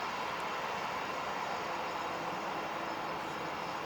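A steady, unbroken jet engine roar fills the air at a distance, even and constant throughout.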